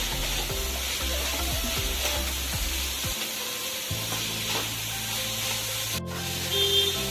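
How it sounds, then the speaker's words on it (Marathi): Mixed vegetables stir-frying in oil over a high flame, a steady close sizzle with scraping and stirring strokes throughout, no voices. "आता आपण हाय फ्लेमवरती या सगळ्या व्हेजिटेबल्स फ्राय करून घेऊया"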